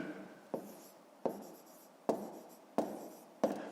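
A pen writes by hand on paper while a fifth-grade maths exercise with decimal fractions is worked through, giving five short scratchy strokes with brief pauses between them, close and quiet, with no voices.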